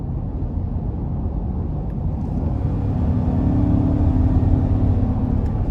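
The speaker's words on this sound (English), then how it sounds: "As I put the pedal down, it did a pretty good job at just finding that gear and then off to the races." A 2020 GMC Yukon XL with the 5.3L engine accelerates under throttle, a low in-cabin engine drone and road rumble swelling steadily louder as a deeper tone builds partway through, no talking.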